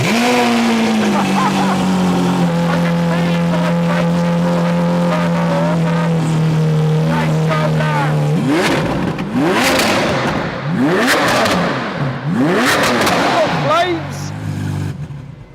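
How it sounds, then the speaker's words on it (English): A Lamborghini V12 with an aftermarket racing exhaust cranks and fires up from cold, holding a steady loud idle before sharp revs crackle and bark through the exhaust, close and very loud. "So let's hear the cold start on the V12 with this aftermarket."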